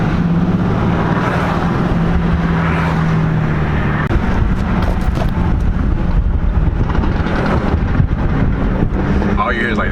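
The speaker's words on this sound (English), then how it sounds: "All you hear is like the different exhaust notes." Several car engines and exhausts rumble continuously at a German car meet, with a steady low drone, wind buffeting the microphone and people talking throughout.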